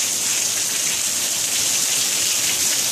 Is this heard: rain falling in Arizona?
yes